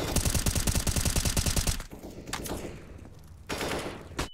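Rapid automatic gunfire from a Counter-Strike match at the ESL Pro League, a dense loud burst of shots for almost two seconds, then quieter room noise and a short, sharp second burst near the end.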